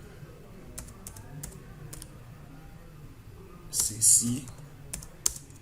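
Keys clack on a computer keyboard in scattered light taps while someone speaks French quietly over them, with a brief louder rustle partway through.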